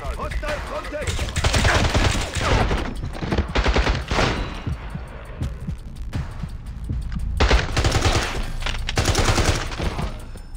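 Sustained gunfire from James Bond 007: Blood Stone, with rapid automatic bursts and heavy thuds. The shooting stays loud and dense throughout, broken by short pauses, and a voice briefly calls out over it.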